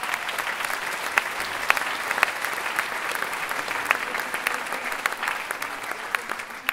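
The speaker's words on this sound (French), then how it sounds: "je pense que vous pouvez vous applaudir parce qu'on tient notre scénario" An audience gives a sustained round of applause at a live show. Dense clapping goes on steadily throughout, with a faint voice in the crowd.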